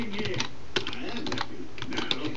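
Close, quick keystrokes on a computer keyboard come in short bursts of clicks with brief pauses, steady and fairly loud, while someone types out CSS code.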